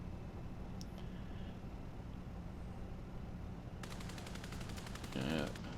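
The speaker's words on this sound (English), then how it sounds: "Yeah, you can machine gun all you want, buddy." Rapid enemy machine gun fire in the War Thunder tank game, aimed at a burning Leopard 2A4, rattles in a fast even burst late in the stretch over a steady engine rumble.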